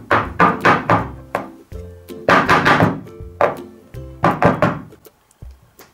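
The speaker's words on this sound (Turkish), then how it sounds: "Kekimizin güzel bir şekilde kabarması için 2-3 kere tezgahımıza vuralım." A cake tin filled with batter is knocked against a countertop in quick clusters of loud, hollow thunks, each with a short ringing decay and brief pauses between groups.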